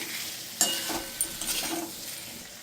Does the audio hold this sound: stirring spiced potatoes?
yes